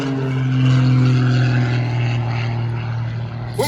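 An aerobatic propeller plane flies low over the treetops at the Central Coast Airshow at Santa Maria Airport, a loud sustained engine drone with steady pitch, fairly close, with no talk.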